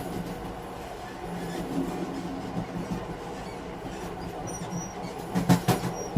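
A train rolling steadily along the rails at night, with a continuous low rumble and faint clickety-clack, plus a few brief squeals and knocks near the end.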